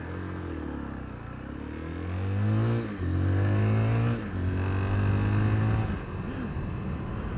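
A Zontes 350GK motorcycle engine revs and pulls hard through several gear changes, its pitch climbing then dropping at each shift, loud and close from the rider's position.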